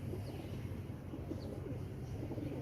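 Pigeons in a Lahore pigeon-keeping loft give soft, low cooing that blends into a steady murmur, with faint chirps now and then, continuous and moderately close.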